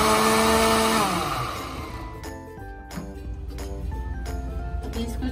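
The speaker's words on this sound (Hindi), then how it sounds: "अभी इसको ग्राइंड करेंगे।" A kitchen blender grinds boiled peaches with their cooking water for juice: a loud whirring roar that slows and drops away, followed by clinks and scraping of the jar.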